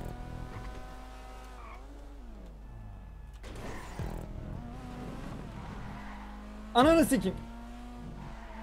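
Car engines whine and rev in GTA V online racing, with pitch sweeps as gears change and a loud squealing skid burst near the end, while someone talks over it.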